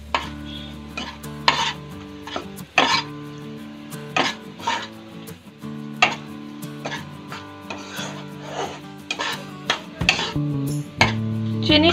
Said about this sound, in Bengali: টমেটোর কুচিটা দিয়ে একটু ভালো করে নেড়ে চেড়ে নেব।